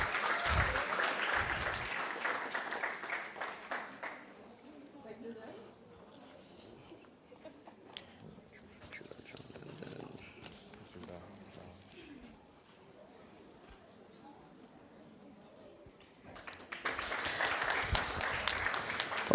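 Audience clapping at a Rotaract Club of Grenada and Communal Co-operative Credit Union ceremony in Grenada, loud at first, then dropping to a quiet murmur of room noise before a fresh burst of applause swells up near the end.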